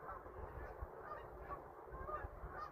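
A flock of geese, including a cackling goose, passes overhead outdoors near a farm, with repeated honks from several birds overlapping steadily over a low rumble of wind or background noise.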